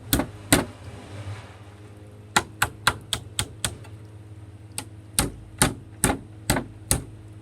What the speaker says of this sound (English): tapping the aluminium round, bashing it down roughly